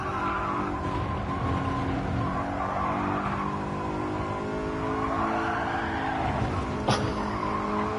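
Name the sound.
BMW M3 tires skidding in video game Gran Turismo 7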